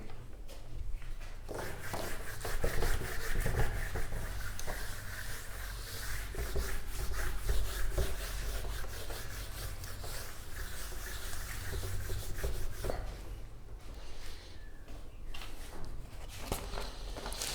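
Writing is rubbed off a board with steady, close scratchy wiping strokes that continue throughout at moderate loudness.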